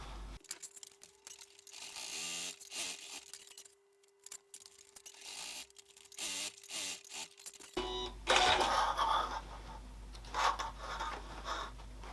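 A sewing machine stitches felt storage boxes in short mechanical bursts of rapid clatter, close by, with brief pauses between runs and a denser, louder stretch near the end.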